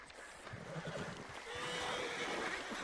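A horse in the video game Red Dead Redemption 2 Online lets out a harsh, rising whinny amid a dense, noisy wash of game ambience.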